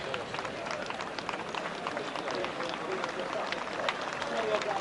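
Steady broadband applause from a racecourse crowd cheering the filly that won the Sussex Stakes, a dense continuous wash of clapping that holds level throughout with distant crowd murmur.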